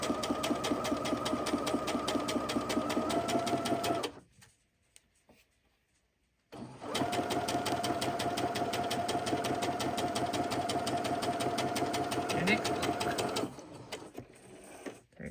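Sewing machine stitching quilted fabric blocks in two long bursts of fast, even needle chatter, stopping for about two seconds in between, fairly close and alone.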